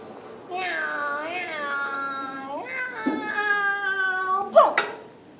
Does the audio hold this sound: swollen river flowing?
no